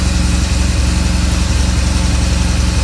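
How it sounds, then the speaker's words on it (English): A stock-exhaust 2008 BMW R1200GS motorcycle engine idles steadily and close by, its low even rumble continuing without a break and with no voices over it. "I think it's got a great sound. It's got the stock exhaust"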